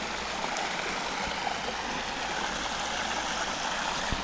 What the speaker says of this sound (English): I don't know how well you can hear me with the running water